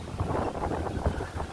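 A cool wind blows through trees and plants in a brief, gusty burst, buffeting the microphone with a low, close-up rumble and no talk.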